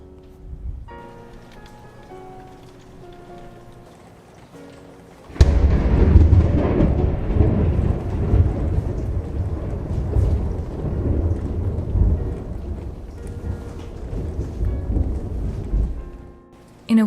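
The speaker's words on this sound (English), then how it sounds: "I constantly heard thunder rumbling in the distance" A nighttime thunderstorm: a quiet stretch with soft tones gives way to a sudden loud crack of thunder, followed by a long, heavy rolling rumble and rain noise that fades before ending abruptly.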